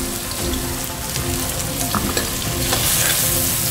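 Chopped onions fry in warm desi ghee for Punjabi sarson ka saag, a steady close sizzle with stirring scrapes running throughout.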